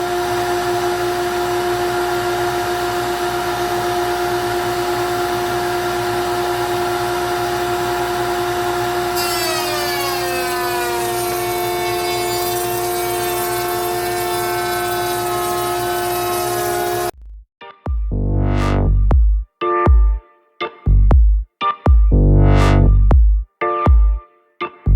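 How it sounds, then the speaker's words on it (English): A wood router runs alongside a dust collector, a loud steady machine drone with a high whine for most of the clip, then the motor winds down into intermittent rough cutting bursts and knocks. "I'm gonna do some routering. Fire up the router, or dust collector, router,"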